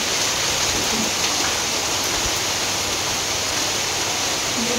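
Heavy rain falls steadily, a dense, even hiss of downpour that is moderately loud and unbroken, with no talk over it.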